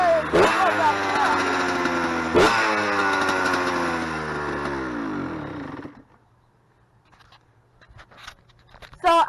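A Honda CR85R two-stroke dirt bike engine revs hard in second gear, its whining pitch sweeping down as it slows, loud and close for about six seconds before dropping to a faint idle with scattered background noises.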